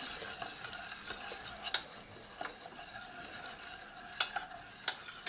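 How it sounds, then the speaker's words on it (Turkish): A spoon stirs a molasses and hazelnut pelte mixture in a pot, soft scraping strokes punctuated by several sharp metallic clinks against the rim, close and fairly quiet. "Şimdi bunu bir güzel karıştırıyorum arkadaşlar."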